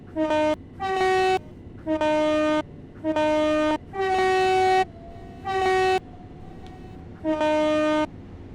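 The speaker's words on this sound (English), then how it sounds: "Standard Electro Star or Capital Star tone there." A series of seven loud, sharp electronic horn blasts with harmonic tones, evenly spaced, each lasting about half a second to a second, with no talking; a British Electrostar or Capitalstar train horn in Train Sim World 5, London Overground Mildmay Line.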